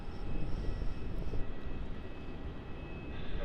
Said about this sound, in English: our next departure here is a Qantas to Queenstown, 737-800 QF177